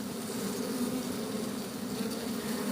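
Honeybees buzz around brood frames pulled from a hive, a steady close droning hum with no break over the short stretch.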